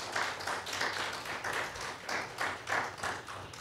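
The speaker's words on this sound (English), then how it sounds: "Let's give the Lord Jesus a hand clap of praise." A Baptist church congregation claps hands in a loose rhythmic pattern during a Sunday worship service, bursts of clapping rising and falling, fairly close and moderately loud with no talking.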